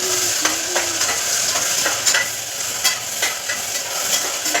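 Potatoes, onion and tomato stirred together in a hot pan for masala rice, a steady sizzle with regular scraping strokes and light spoon taps against the pan, close and clear.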